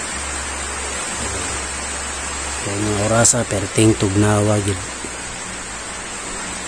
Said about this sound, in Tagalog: So, karon pamusdak na ang ulan mga kaluslus.